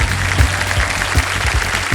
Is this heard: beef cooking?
no